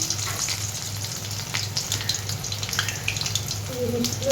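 Garlic fries in hot oil while a Bengali eggplant and sidol chutney is being cooked, giving a steady close sizzle with faint clinks and water-like crackle throughout.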